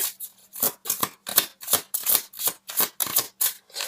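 Tarot cards being handled in crisp, rhythmic bursts, about a dozen sharp riffling swishes evenly spaced and close, with silence between each.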